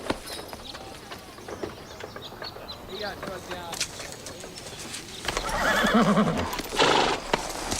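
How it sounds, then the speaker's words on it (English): Horses whinny loudly in the second half, with harmonic calls rising over background chatter and the clop of hooves. "Come on, let's go look at the horses."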